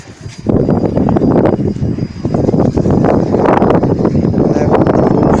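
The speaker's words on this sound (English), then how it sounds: "too much wind is here" Strong wind buffets the microphone in a steady, loud rumble that starts abruptly after a brief quiet moment and continues throughout.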